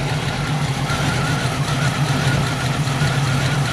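A 1980 Camaro's engine idles steadily and close by, a constant low rumble with a faint rhythmic ticking running underneath.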